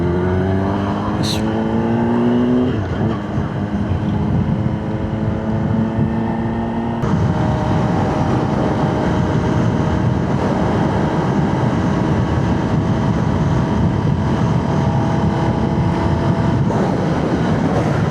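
Strong wind roars against a Kawasaki motorcycle packed with luggage for a cross-country ride, a loud, steady broadband rush that buffets throughout, with a humming engine tone shifting early on.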